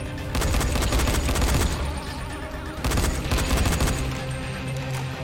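Repeated gunfire in the zombie game Dying Light on nightmare difficulty, dense bursts in two loud stretches separated by a brief lull.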